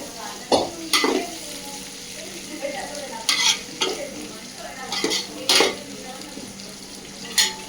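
Mutton curry stirred and fried in a pot, cooked old-fashioned style with green chillies, gives a steady sizzle broken by several sharp scraping stirs and utensil clinks, close and fairly loud with no talking.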